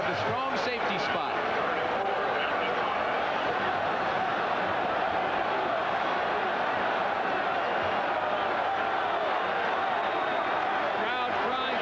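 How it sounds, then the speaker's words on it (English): Texas football fans cheering in a stadium at a 1986 Oklahoma vs Texas game, a sustained loud crowd roar with a commentator talking over it. "Crowd crying for Texas to go for it."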